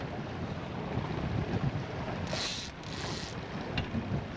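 Steady wind roars across the microphone aboard a fishing boat on a lake in roughly 20 mph gusts, with waves washing and slapping the hull throughout, loud and continuous with no voices.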